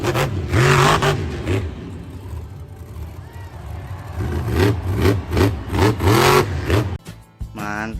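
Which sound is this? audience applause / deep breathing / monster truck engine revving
monster truck engine revving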